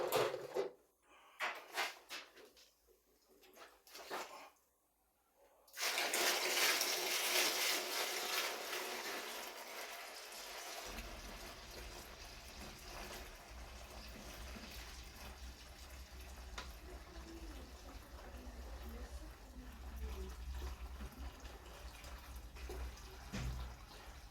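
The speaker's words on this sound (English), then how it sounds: "So let's top it up with cold water." Cold filtered water running from a tap to top up a pilsner homebrew vessel, a steady, fairly faint rushing fill that continues at length after some brief clatter at the start.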